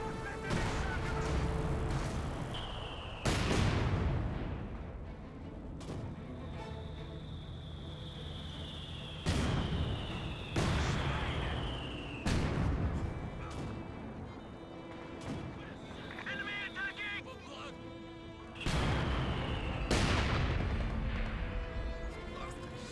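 Rifle grenade blasts from grenadiers in Company of Heroes 2: several sharp explosions and gunshot cracks recurring across a busy battlefield soundscape, with a commentator talking throughout.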